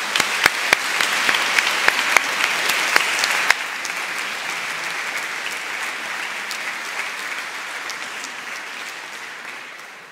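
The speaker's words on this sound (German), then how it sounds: "wir senden ihr einen großen Applaus als Danke nach Hause." A congregation at a confirmation service claps loudly. The first seconds hold a few sharp individual claps, then the sound settles into steady, dense applause that slowly fades toward the end.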